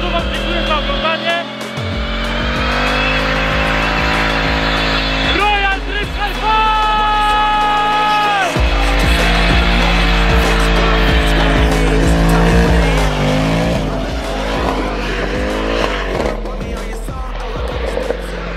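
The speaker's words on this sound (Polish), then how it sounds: "A ja na zakończenie jeszcze chcę wam pokazać, jak ten samochód pięknie odjeżdża." A powerful car pulling away hard with a loud, close engine roar, rising and shifting revs and tire squeal as it drives off.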